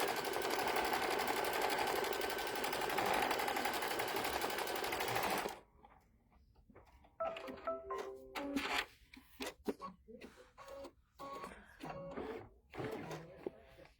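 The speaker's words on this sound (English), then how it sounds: "now it's gonna do the placement line for our inner feathers." An embroidery machine stitches an in-the-hoop turkey mug rug. It gives a fast, steady, rattling hum that stops partway through, followed by irregular clicks and short stitching bursts.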